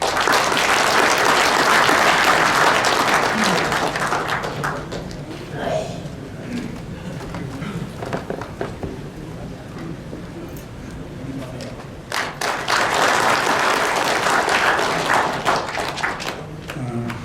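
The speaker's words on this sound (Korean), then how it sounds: "박수로 환영해 주십시오." Enthusiastic audience applause welcomes a speaker at a Korean history lecture. It starts full and loud, fades to a quieter patch with a few scattered claps and some voices, then swells strongly again near the end.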